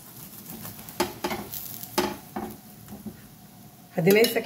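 Mixed veg paratha being flipped and pressed on a hot pan, with sharp scrapes and taps of a spatula over a low sizzle and a louder burst of sizzling at the end.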